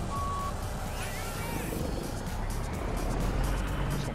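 A semi truck in a driving simulator, hauling a grain trailer, rumbles steadily with a low engine drone as it backs into a tight parking spot, with a faint high reversing beep early on.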